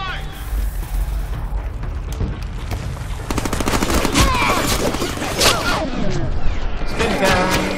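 Heavy gunfire in the PS3 video game Deadpool, with sustained loud machine-gun bursts and rapid shots that thicken midway, under a voice speaking over the action.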